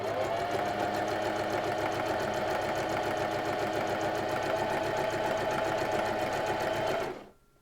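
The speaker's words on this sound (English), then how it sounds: "and sewing along the fabric" A sewing machine runs steadily for about seven seconds, stitching along fabric with a fast, even mechanical chatter close by, then stops abruptly.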